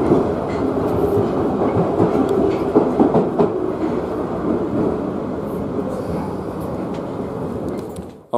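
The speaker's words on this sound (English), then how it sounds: "Time to get on the underground now and head back home." London Underground train running, a loud steady rumble with rhythmic rail clatter throughout, close and continuous before cutting off abruptly at the end.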